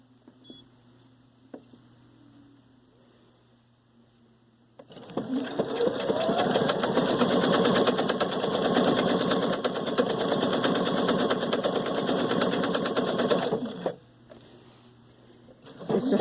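A Husqvarna Viking Sapphire 930 sewing machine stitching decorative stitch 45 with a braiding foot runs in a fast, steady close whir for about nine seconds after a quiet start, then stops.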